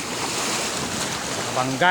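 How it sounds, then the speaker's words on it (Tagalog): A steady roar of ocean surf and wind at a beach in Barangay San Isidro, Zambales, continuous and fairly loud, with a faint tonal sound near the end. "mahampas yung alon"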